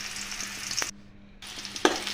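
Finely chopped onion frying in about two spoons of oil in a kadai pan for an urad dal kulambu, giving a soft steady sizzle with a couple of sharp stirring clinks and a short quiet gap.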